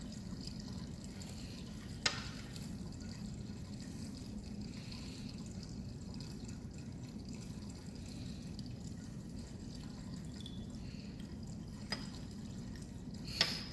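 Cold wash water is drawn through a solid on a Hirsch funnel during vacuum filtration in a chemistry lab, making a steady, quiet rushing and trickling hiss with a few faint clicks.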